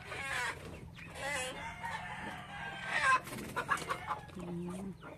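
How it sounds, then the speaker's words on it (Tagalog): Chickens cluck and a rooster crows close by in a backyard garden, the crowing rising over a steady stream of clucking, with faint human voices mixed into the background. "Pasok na naman na dito yung mga manok guys."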